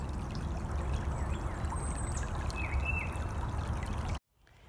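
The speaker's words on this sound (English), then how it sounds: "Look at the way that the water's rippling on the rocks." Creek water at Camp Alculana ripples steadily over rocks, a close, continuous rushing and trickling that cuts off abruptly near the end.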